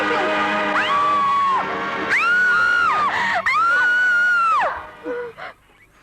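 A woman screams loudly in a Hindi horror skit, several long, sustained, high-pitched shrieks in quick succession, close and piercing, fading at the end.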